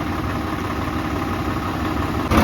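A steady tractor engine idles and runs continuously on a farm field, a low rumbling drone that stays level throughout, close by, with no voices.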